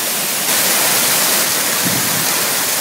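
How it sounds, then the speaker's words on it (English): Waterfall pouring over a dam beside a mill, a loud, steady broadband roar of rushing water heard up close, filling the whole clip with no talk. "we are right up against the dam here, which creates the waterfall by the mill"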